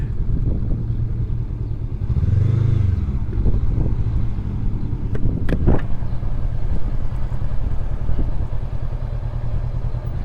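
Motorcycle engine running near a parking area on a ride to Prince Edward Island, a loud steady rumble with a brief rising rev early on and a couple of sharp clanks midway, no voices.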